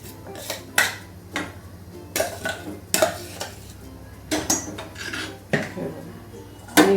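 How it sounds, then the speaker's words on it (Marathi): Ground horse gram being stirred into a simmering Malwani curry in a pot, with repeated close clanks and scrapes of a metal spoon against the pot in an irregular rhythm and faint sizzling underneath. "चांगलं ढवळून घ्यायचं"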